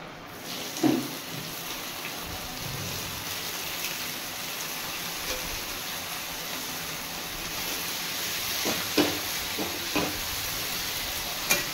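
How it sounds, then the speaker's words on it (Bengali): Small shrimp fry in a pan with oil, giving a steady, close hiss that runs the whole time. A few soft clinks and stirs break through now and then. "এভাবে আমি এই চিংড়ি মাছগুলোকে ভালো করে ভেজে নেব।"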